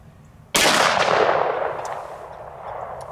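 A single loud gunshot from a 10mm pistol firing a 200 grain full metal jacket round at a mild steel plate outdoors, with a sharp crack and a long, fading echo and no talking.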